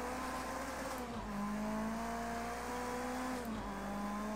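Race car engines in the video game Project Cars 2, a sustained droning engine whine holding a steady pitch with slight shifts, continuous and fairly loud with no talk over it.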